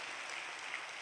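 A church congregation claps to welcome children, a dense, steady burst of many hands applauding at moderate loudness, with no voices over it.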